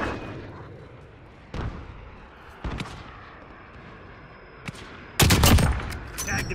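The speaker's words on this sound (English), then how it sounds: "Allied cruise missile away." Heavy blasts from an allied cruise missile strike in the video game Call of Duty: Modern Warfare: three sharp booming hits spaced apart, the last one loudest and rumbling longest, over a low battlefield background.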